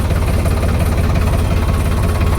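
A tractor engine idles nearby with a heavy, throbbing low rumble and fast, even knocking pulses, loud and constant from start to finish.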